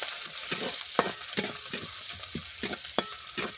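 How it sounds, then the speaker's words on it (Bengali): Onions fry in a pan for a greens-and-prawn village curry while being stirred briskly, roughly ten rhythmic scraping strokes riding over a steady close sizzle, no voices. "পেঁয়াজগুলোকে একটু ভেজে নিচ্ছি।"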